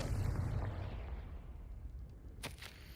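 A Confringo blasting spell explodes in the video game Hogwarts Legacy, a deep rumbling boom that decays over a few seconds, followed by a short sharp crackle near the end.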